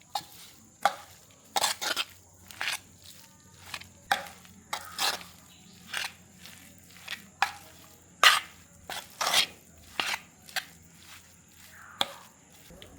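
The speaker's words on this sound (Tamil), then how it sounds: "நான் கரண்டியாலே எல்லாம் சேர்த்து கறக்குறேன்" A spoon scrapes and knocks steadily through a warm mushroom mixture in a bowl or pan, giving repeated rhythmic strokes at close range with no talking.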